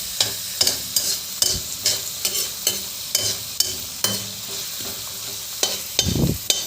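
Carrots, beans and cabbage stir-frying in a home kitchen: a steady hiss of frying broken by a regular run of sharp scraping stirs, roughly two a second, close and loud, with no voices.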